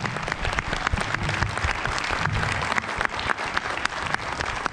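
Audience applause for teacher Carmen at an induction ceremony of the Fray Antonio Alcalde arts academy, a full room clapping steadily at close range.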